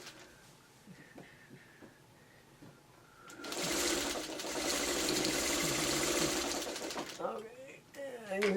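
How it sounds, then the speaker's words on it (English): A sewing machine stitches quilt patches together in a steady whirring run of about four seconds. Speech comes before and after the run. "Now you start sewing it together."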